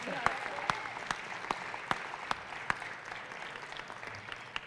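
Quiet applause at a college annual awards and recognition ceremony, a soft bed of clapping with a few sharp, evenly spaced individual claps standing out near the microphone.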